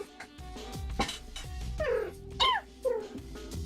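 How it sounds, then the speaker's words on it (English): A cat meows repeatedly in plaintive, rising-and-falling cries, fairly close, with several distinct calls over a few seconds and faint background noise underneath. "The cat's probably gonna keep doing that noise until it gets picked up"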